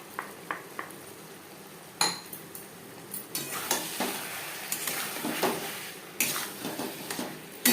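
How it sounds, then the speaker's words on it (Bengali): A spoon scrapes and clinks against a pan while tomato paste is stirred into sizzling chicken curry, giving irregular clatters over a soft steady frying hiss, close by and with no voices. "টমেটোর পেস্ট বেশ ভালো করে মিক্স করে দেব"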